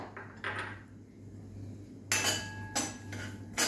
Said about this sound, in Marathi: एवढं तूप घातलं की यामध्ये आपल्याला रवा भाजायचा आहे।